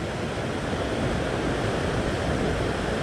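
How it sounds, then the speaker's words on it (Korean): Ocean surf at a fishing spot in Sydney, a continuous loud wash of breaking waves with steady roaring noise and no speech. "파도는 오른쪽에서 왼쪽으로 치고 있고"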